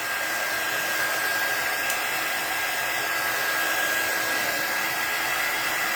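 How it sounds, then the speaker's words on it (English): A heat tool blows hot air to dry craft chalk paste, giving a loud, steady, unbroken whoosh that holds from start to finish with no talking over it. "I'm just going to take my heat tool that I picked up and dry the paste a little bit."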